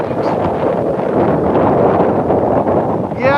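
Strong, gusty wind of about 17 mph with gusts near 25 mph at a beach in high-elevation desert country, roaring constantly against the microphone with no letup.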